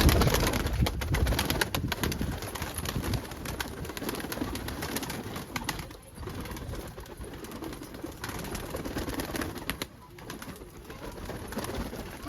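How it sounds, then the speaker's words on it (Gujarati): Pigeons coo softly and continuously close by as their coop is opened, with repeated overlapping calls and faint fluttering. "ચાલો કબૂતર ખોલીએ."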